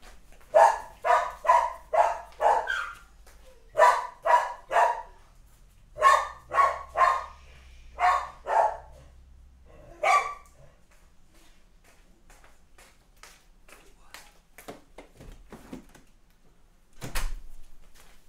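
Dogs bark in steady rhythmic runs indoors, a few rooms away, followed by quieter scattered sounds and a single thud like a door near the end.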